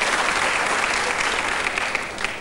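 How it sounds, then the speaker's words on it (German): Studio audience applause on a German TV quiz show, dense and steady clapping that fills the whole stretch at an even, close level. "Verdienter Applaus."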